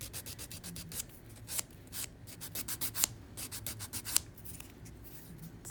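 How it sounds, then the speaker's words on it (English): Fingernails being filed by hand with a nail file during a dip-powder manicure, a run of quick, close, dry scratchy strokes in an uneven rhythm with a few sharper scrapes, heard alone without talk. "So I've got a bit of filing to do."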